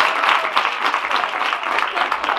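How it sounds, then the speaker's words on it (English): Audience at a Girls in ICT Day event in Gweru applauds steadily, a dense and fairly loud wash of clapping with no talk over it. "clap hands for her."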